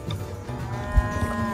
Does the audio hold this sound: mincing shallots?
no